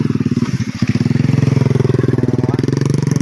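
A single-cylinder motorcycle engine on a rural mountain road in the Philippine countryside thumps close and loud in a fast, even pulse, idling and revving slightly with no voices over it.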